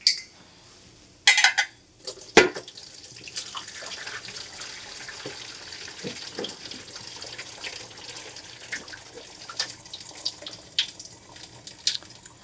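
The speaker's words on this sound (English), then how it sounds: "And we're just going to drain those." Cooked udon noodles are poured out into a kitchen sink for draining, beginning with a loud splashing rush of water, then metal clanks and steady trickling and dripping as the noodles settle.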